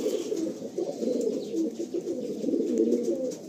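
A pair of black pigeons coos continuously in a loft, soft overlapping throaty rumbling calls close by with no talking.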